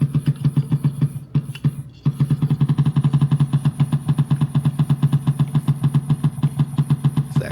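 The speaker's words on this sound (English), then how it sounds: "It's that classic Harley Davidson sound." Harley-Davidson motorcycle engine idles at about 500 to 700 RPM in a museum, a loud, close, lumpy potato-potato beat of evenly spaced pulses with a brief stumble early on before the steady rhythm resumes.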